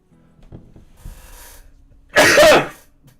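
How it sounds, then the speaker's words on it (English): A single loud, explosive sneeze bursts out near the mic after a few seconds of quiet shuffling and a faint breathy build-up. "I'm going to sneeze again"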